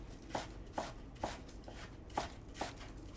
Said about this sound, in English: Let me chop some more. I need some scallions, more herbs